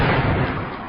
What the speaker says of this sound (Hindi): एक जोरदार धमाका हुआ